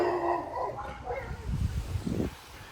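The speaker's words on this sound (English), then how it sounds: "Sorry, that's my dog, the Oreo dog." A dog barks and yips a few times at close range outdoors during strong wind gusts, the short bursts standing out over a steady rush of wind.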